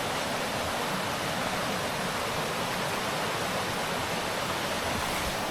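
Steady rushing of a flowing stream, a constant broadband wash without breaks or voices.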